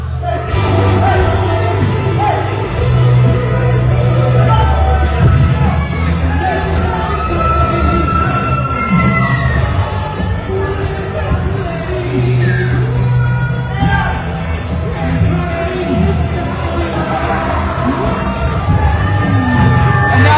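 A wrestling crowd at a TMW World Heavyweight Championship match reacts loudly to the result, with a dense, sustained roar of shouts, yells and whoops filling the arena throughout.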